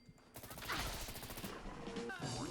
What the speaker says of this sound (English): We shot that one, she exploded into bits, and that explosion chained over to something else